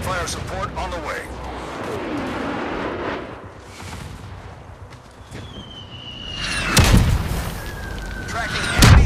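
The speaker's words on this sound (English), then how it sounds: "Gunfire support on the way." Artillery gunfire support in the Battleship video game: deep booming blasts and rumbling impacts building toward the end, with radio voices talking over the naval combat.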